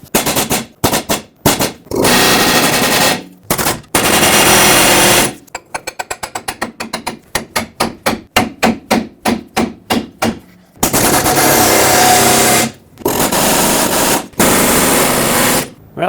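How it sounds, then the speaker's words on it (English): Pneumatic air chisel hammering a stuck track bar bushing on a 2011-2016 Ford F-350, loud, close bursts of rapid rattling blows, long sustained runs broken by quicker stuttering pulses and short gaps. "I'm going to use an air chisel and just chisel in the same area"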